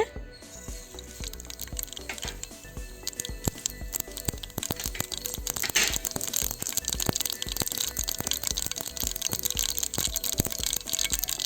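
Mustard seeds pop and splutter in hot oil, tempering for a radish sambar. Dense, rapid crackling is heard close up, building and holding steady throughout, with no voices.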